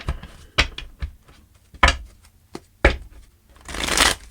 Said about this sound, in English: All right, 3 more shuffles, and let's begin.